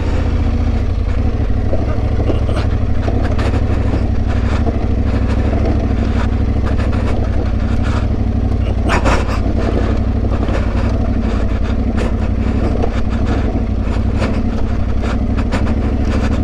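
An Aprilia Tuareg 660 motorcycle on a trail ride in the Yorkshire Dales gives a constant, loud low engine drone with wind buffeting and brief scrapes and knocks from the rough track.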